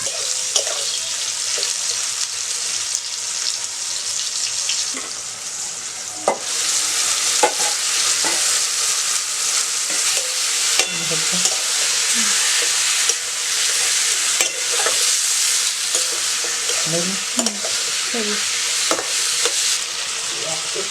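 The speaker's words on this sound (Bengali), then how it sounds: "লঙ্কা আর গোটা রসুন আর কোচানো পেঁয়াজ, এগুলো ভালোভাবে লাল করে ভেজে নেব।" Green chilies, whole garlic cloves, chopped onion and tomatoes fry in oil in a pan on a clay stove, giving a loud, constant sizzle close by. Scattered taps and scrapes of stirring punctuate it.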